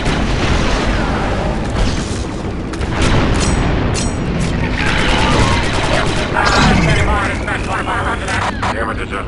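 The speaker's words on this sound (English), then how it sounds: "The charge is set and ready to detonate." Explosive charge detonating in the shooter game Star Wars: Republic Commando, a deep boom with rumbling debris amid dense battle noise, gunfire and mechanical clatter, with voices talking over it.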